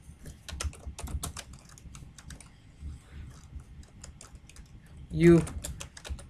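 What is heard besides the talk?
typing on a computer keyboard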